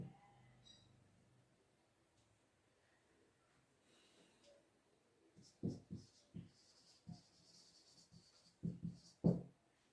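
A marker or chalk writes on a board in a series of short scratchy strokes, quiet at first and growing into distinct taps and squeaks spaced irregularly over the latter half.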